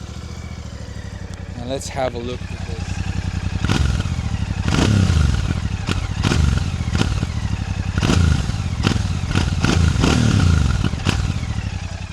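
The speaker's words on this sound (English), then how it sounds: "let me show you how this beautiful exhaust sounds" A Royal Enfield Classic 650 motorcycle fires up with a loud close exhaust note, the engine rumbling at idle, then repeatedly revving in sharp blips with small pops, after a brief spoken remark.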